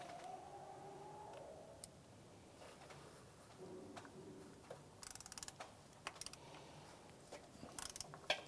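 Ratchet working a 10mm bolt loose on the variable valve timing solenoid of a 2011-2016 Hyundai Elantra, faint mechanical clicking and ratcheting in short bursts that grow busier and sharper toward the end.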